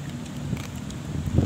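Wind blows steadily outdoors during a fishing trip, a broad rumbling rush buffeting the microphone with gusts swelling toward the end, no voices present.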